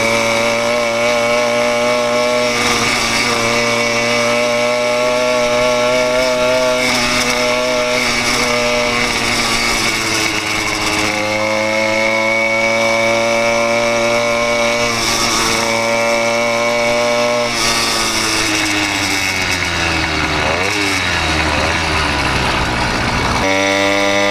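A small 80cc two-stroke motorized bike engine runs loud and close, buzzing steadily with repeated revs up and down and a rough, raspy tone.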